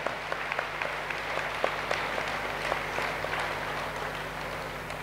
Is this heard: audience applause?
yes